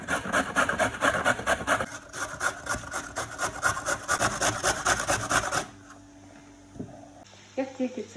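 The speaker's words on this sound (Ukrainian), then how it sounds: "тремо моркву" Carrot being grated by hand on a kitchen grater for a basic braised cabbage recipe, a steady rapid rasping that runs for several seconds, then stops, followed by quieter kitchen clatter.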